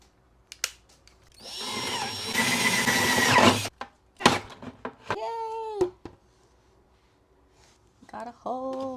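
Power drill boring holes in a plastic bucket for a passive hydroponic tomato setup, with a sustained loud whirring burst that stops abruptly, followed by shorter rising and falling motor bursts and brief pauses.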